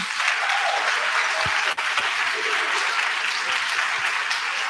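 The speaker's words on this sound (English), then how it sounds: "everybody can give her a round of applause and congratulate her." A steady round of applause fills a graduation ceremony hall, dense and sustained clapping from a crowd at a pediatrics graduation, continuous across the whole stretch.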